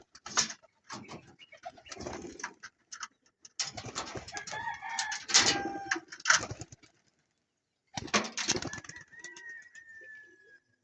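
Racing pigeons coo and flutter in bursts close by, with soft bird calls, scuffling and a few pauses of near silence between.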